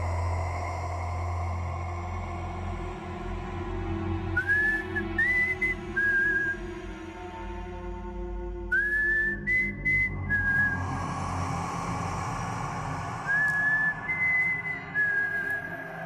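A person whistles a short tune in several separate phrases of rising and gliding notes, clear and fairly close over a low background hum.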